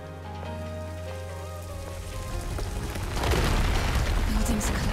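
Rain falling in the video game Stellar Blade, a steady wash of hiss that swells louder toward the end, over a low droning game score with a deep rumble beneath.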